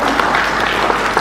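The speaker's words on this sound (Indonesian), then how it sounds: "tepuk tangan luar biasa sekali" Steady, close, full applause from an audience at a press conference for a design week in Indonesia, a continuous wash of clapping throughout.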